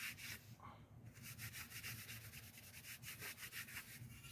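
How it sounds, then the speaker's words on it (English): A rag rubs and wipes oily grime off a filthy Briggs and Stratton small engine part. The scrubbing comes in a steady run of quick, close strokes, with low workshop hum beneath it. "I'm gonna wipe this off"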